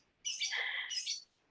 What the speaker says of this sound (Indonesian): Maaf ya ada bunyi burung.